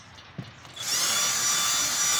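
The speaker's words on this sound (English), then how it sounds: "Another drilling." A power drill spins up and bores into wood for a DIY kitchen island build, a sustained high whirring grind that starts abruptly after a brief quiet moment and holds steady.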